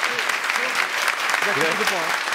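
A studio audience claps steadily for competing teams at a gaming tournament final, a dense, even wash of applause with a host talking over it.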